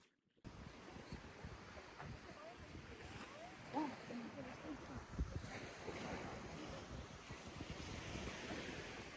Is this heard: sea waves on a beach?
yes